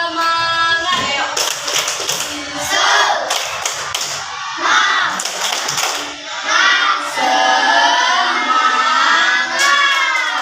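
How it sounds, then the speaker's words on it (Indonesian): Class of children performing the tepuk semangat chant, chanting loudly together in unison and punctuating the rhythm with sharp group claps, voices close and energetic throughout. "coba kita tepuk semangat ya"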